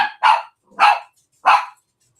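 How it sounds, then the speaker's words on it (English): A dog barks three times in a steady, evenly spaced rhythm, each bark sharp and fairly close, with no talk over it, heard indoors in a home during a casual conversation. "there's my dog."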